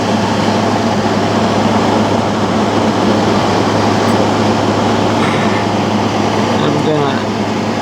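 A battery-powered air conditioner runs with a steady, loud, constant hum and whoosh, close by and unbroken, with a faint higher tone near the end.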